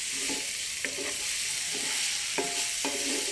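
Onions gently sautéing in a pan for egg bhurji, a soft steady sizzle broken by a few spatula stirs and scrapes, close and fairly quiet, no talking.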